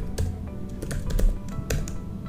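Quick, irregular keystrokes on a computer keyboard, close and clear, forming a steady patter of clicks with no voices.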